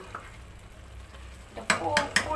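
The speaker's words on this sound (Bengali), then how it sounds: "এইভাবে করে সুন্দর করে লাড়া দিতে হয়" A spoon stirs potatoes frying in hot oil for khichuri, with a soft sizzle throughout and several sharp scraping strokes against the pan near the end.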